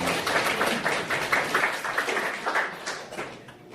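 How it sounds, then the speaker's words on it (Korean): A church congregation applauds the Shalom choir, a dense, steady clapping from many hands in a hall that swells and then tapers off slightly toward the end. "우리 샬롬 찬양대를 위해서 박수 한번 힘차게 쳐주시기 바랍니다"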